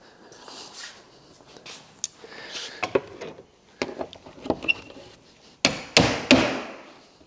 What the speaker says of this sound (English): So I like to use a hammer as leverage and pop them up into place.